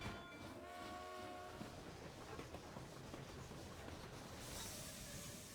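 A train rolls along in the Panzer Corps 2 war game. A short horn-like tone at the start gives way to a steady, faint rumble of rail travel with no talking.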